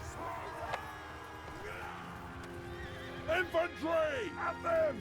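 Horses whinny and neigh repeatedly amid a Mount & Blade Bannerlord cavalry charge against brigands, with hoof clatter and loud, close calls bursting out near the end over a low battle murmur.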